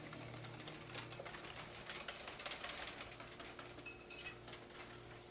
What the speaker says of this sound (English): You just want to keep whisking